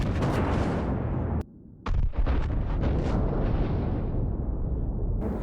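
A naval gun salvo fires in the World of Warships naval battle game: loud, booming blasts with one sharp cut to near silence partway through, then the heavy rumble resumes and carries on.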